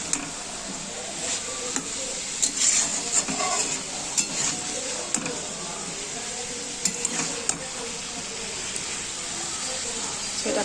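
Bottle gourd and prawns stir-fried uncovered in a pan, a steady wet sizzle with scraping spatula strokes and occasional clinks against the pan, close up, with talk heard over it.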